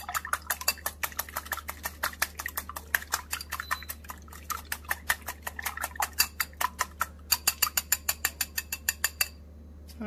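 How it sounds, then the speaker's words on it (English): Quick whisking of dry ingredients with salt and freshly grated nutmeg in a bowl for Nigerian buns, a fast steady run of sharp metallic ticks and scrapes, close and regular, briefly pausing near the end. "I'm going to just quickly whisk it"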